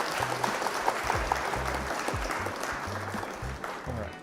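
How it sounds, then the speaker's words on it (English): Moderate clapping from a small audience at a live Flesh and Blood card game match fills the clip, steady and continuous, while a low voice talks underneath. "Round of applause for our opponent."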